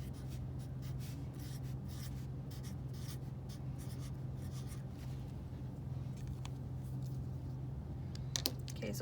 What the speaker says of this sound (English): What I want you to do is trace these squares, rectangles, I'm sorry, to your paper.